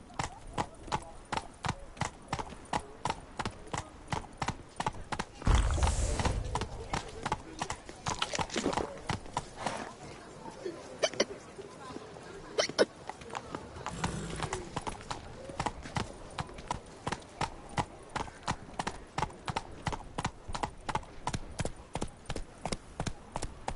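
Roach the horse galloping in The Witcher 3, a steady rapid clip-clop of hooves running through the whole stretch, with a couple of louder thumps and a brief whinny-like burst partway through.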